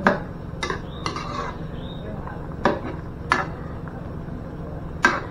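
A spoon stirs soup in a metal pot to thicken the broth, giving several sharp clinks and scrapes spaced unevenly against a quiet background, with a voice speaking softly at times.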